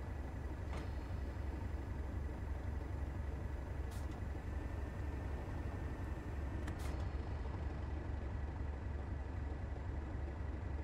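A steady low mechanical rumble of a Class 37 diesel locomotive in Train Sim World 3 with hissing air as brakes release, including a couple of brief sharp hisses partway through, no talking.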